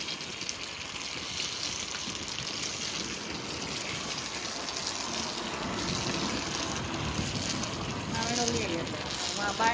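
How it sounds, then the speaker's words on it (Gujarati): Water sprays and gushes against the walls of a house beside a dusty road in a steady, continuous wash, with distant voices faintly underneath. "દિવાલો મસ્ત ધોવાઈ ગઈ."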